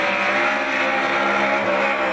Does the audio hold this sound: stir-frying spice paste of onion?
no